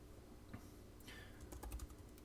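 Quiet typing on a computer keyboard, a loose run of soft key clicks picking up toward the end, close and alone.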